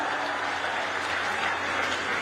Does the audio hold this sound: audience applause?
yes